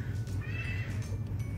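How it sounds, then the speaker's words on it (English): Cat meowing, a drawn-out wavering meow heard faintly over a low steady background hum. "It's cat time!"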